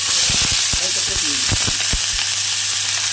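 Cut, washed potatoes sizzle loudly in a generous amount of hot oil in a kadai, a dense continuous hiss and crackle close up, with scattered pops and low thumps from the pan; no talking.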